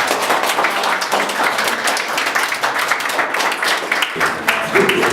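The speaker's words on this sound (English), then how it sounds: "Let's give them a round of applause." Steady crowd applause with many hands clapping at once, loud and continuous throughout, with a brief shift in texture near the end.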